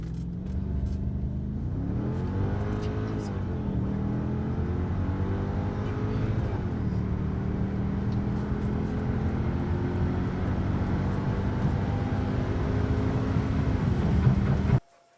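A Mercedes CLK55 launches in second gear, its engine roaring loud and close as the revs climb in rising sweeps, holding a strong steady pull before cutting off abruptly at the end.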